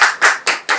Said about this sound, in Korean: 우리 사회자께 박수를 한번 보내야 될 것 같아요